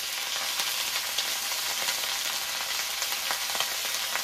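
Ground spice paste of garlic, onion, cumin and dried red chilli fries in a pan with a dense, even sizzle and scattered small crackles, moderately loud and steady with no voices.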